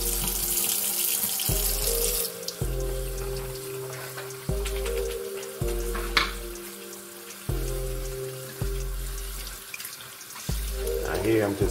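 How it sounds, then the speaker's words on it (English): Organic raw sea moss being rinsed while submerged in water, with steady sloshing and running-water sounds in a sink and periodic louder splashes as the pieces are moved, no talking. "Here I'm just giving it a submerge rinse."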